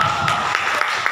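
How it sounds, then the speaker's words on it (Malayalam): Audience applause at a game show in Thrissur, a brief burst of light, steady clapping from a modest crowd, fairly even throughout without talking. "കയ്യടി പോരാ, നിങ്ങളുടെ കയ്യടിയാണ് കുട്ടിയുടെ ആത്മാവ്"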